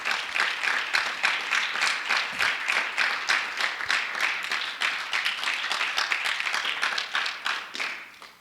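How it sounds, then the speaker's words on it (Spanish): A church congregation claps together in a steady, fairly rhythmic round of applause, moderately loud and filling the room, continuing for several seconds before tapering off. "Dele un aplauso fuerte al Señor."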